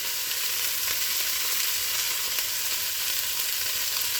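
Meat and spices sizzling steadily in a tagine pan, a dense continuous frying hiss, close and even throughout with no talk.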